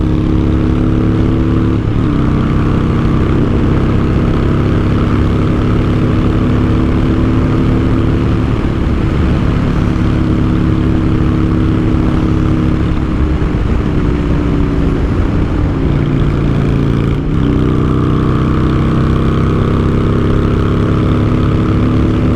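A Honda Shadow motorcycle engine rumbles loud and steady while riding through a series of turns, its deep exhaust note rising and falling with throttle changes, with no talking.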